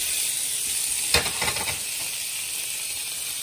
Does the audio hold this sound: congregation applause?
no